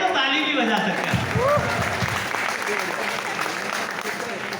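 An audience claps during a talk, a dense patter of applause under a speaking voice that carries on throughout.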